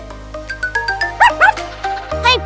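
A puppy gives a few high, short yips with rising-and-falling pitch, two close together in the middle and one near the end, over bright chiming tones and a steady low hum, with no talking.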